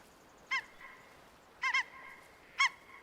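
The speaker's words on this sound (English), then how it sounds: "Okay, wild duck" Wild ducks in the Way of the Hunter hunting game give three short, distinct honking calls spaced about a second apart. They stand out clearly against quiet ambient background.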